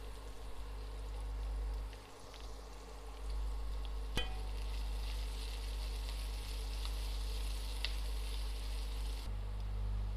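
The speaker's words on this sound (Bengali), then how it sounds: "আমার পেঁয়াজ ভাজা হয়ে গিয়েছে," Chopped onions fry in a pan with a pinch of salt for a potato and green pea curry, giving a steady, close, even sizzle throughout with no one speaking.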